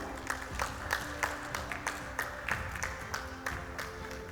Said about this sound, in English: Come on, everyone, let's keep clapping.